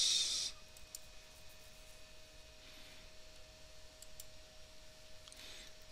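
A single sharp computer mouse click at the start, then quiet steady background hiss with a faint electrical hum and a few soft ticks.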